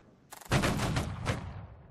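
A musket volley fired in Holdfast: Nations at War: one dense, loud crackling burst of many shots at once, followed by a rolling echo that fades.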